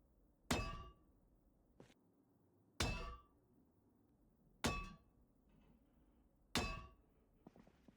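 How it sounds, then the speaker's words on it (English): In Project Zomboid, a sledgehammer smashes the stairways of a mall, landing four heavy metallic clanging blows at regular intervals, each ringing briefly before fading, with a fainter knock between the first two. "Now we're going to go through the mall with our sledgehammer and destroy all of the other stairways up to the second level."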